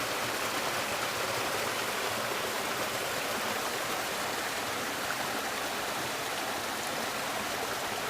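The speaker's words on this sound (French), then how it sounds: "Je pourrais me laver avec cette eau." Flooded stream water rushing steadily, a dense, continuous hiss of flowing water close by, with no talking.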